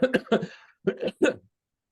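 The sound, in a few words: cough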